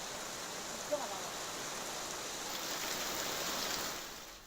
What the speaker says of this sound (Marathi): चांदोली धरण परिसरात पावसाचा जोर वाढलाय